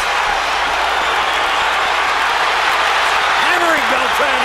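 A boxing arena crowd at a Crawford fight roars and applauds in a dense, steady wash of cheering, with a commentator's voice rising over the noise near the end.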